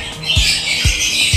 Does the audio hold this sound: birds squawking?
yes